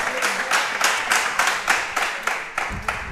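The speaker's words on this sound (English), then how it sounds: "the clapping is loud tonight over here with these guys" Audience at a high school football coaches show clapping for the team's defense, a loud, steady crowd applause with a regular pulse of claps running throughout.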